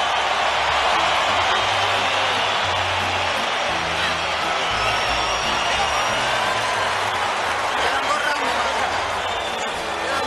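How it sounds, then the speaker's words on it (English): A boxing arena crowd on its feet during Canelo Alvarez vs Gennady Golovkin, a loud, steady roar of cheering that fills the whole stretch without letup. "Crowd on their feet."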